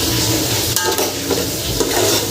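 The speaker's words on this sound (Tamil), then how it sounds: "1/2 கிலோ சிக்கனை வந்து நான் இதில் சேர்க்கேன்." Half a kilo of chicken goes into sizzling masala in a pan for chicken biryani, filling the foreground with a loud, steady frying hiss and a few stirring scrapes.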